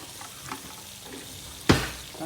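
Dry spices being stirred into chicken tikka masala in a hot pan, with a soft background sizzle broken by one sharp scrape or clatter of the spoon partway through, close and alone.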